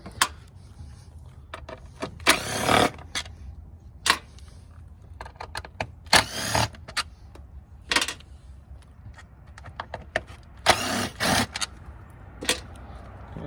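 Power driver with a bit removing 10 mm Phillips No. 3 bolts from the air filter lid of a 1990-1997 Mazda Miata, short whirring bursts of the motor spaced apart with small metallic clicks and handling noises between.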